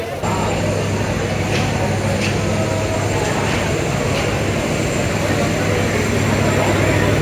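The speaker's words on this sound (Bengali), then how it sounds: "তো দেখতে পাচ্ছেন একটি ট্রেন যাচ্ছে আরেকটি ঢাকা থেকে চলে আসছে" A train rolls through the airport railway station in Dhaka with a loud, continuous rumble and low mechanical hum that holds steady for the whole stretch, and no pause or break in the noise.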